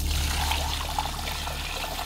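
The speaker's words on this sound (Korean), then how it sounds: "여기다가도 한번 물을 부어보도록 하겠습니다" Water poured onto a surface treated with waterproof spray, a steady trickling, splashing stream that runs close by and fairly loud for about two seconds, with no voices.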